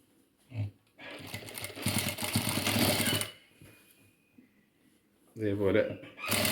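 A sewing machine runs in one steady burst, stitching a hem on a sari blouse, with a voice speaking before and after the stitching.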